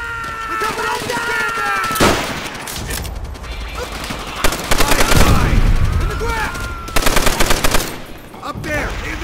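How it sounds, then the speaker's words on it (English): Sniper shots and heavy gunfire in the Call of Duty: World at War video game, with loud rapid machine-gun bursts and sharp cracks over a continuous battlefield din. "Sniper fire!"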